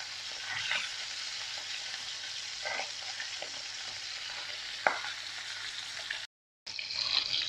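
Fish and tofu fry in a pan with a steady, close sizzle and occasional sharper pops and spatters, the sound briefly cutting out near the end.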